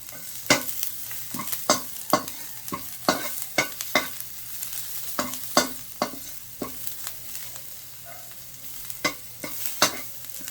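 Garlic frying in oil in a 32 cm non-stick wok, with a soft sizzle under a series of sharp clacks and scrapes of a utensil stirring against the pan, irregular and close, and no voices.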